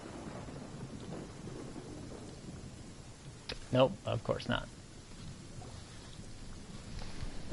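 Rain patters steadily in Genshin Impact while a few rolls of thunder rumble briefly through the middle of the stretch, with someone talking over it.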